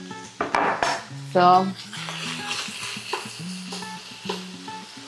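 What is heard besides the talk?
pan filling with carrot and pepper simmering, being stirred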